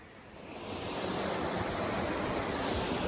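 A waterfall along the Appalachian Trail rushes in a steady, loud broadband roar, swelling slightly in the first half second and then holding constant throughout, with no voices.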